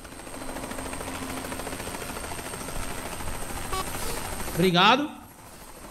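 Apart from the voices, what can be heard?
helicopter engine running in Euro Truck Simulator 2 video game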